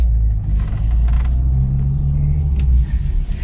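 The engine of a 1989 Lada VAZ 2109 Sputnik drones steadily while driving, a loud low rumble with slight shifts in pitch and some rattling, no talking.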